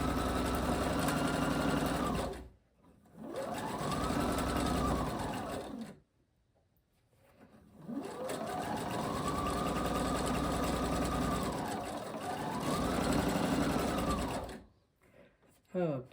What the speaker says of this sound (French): On coud sur notre ligne d'un quart de pouce.